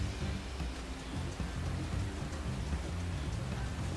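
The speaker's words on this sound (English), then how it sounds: "And it's raining" Steady rain falls in the video game Final Fantasy XIV Dawntrail: an even, dense hiss lasting throughout, with a low tonal hum beneath it and no talk.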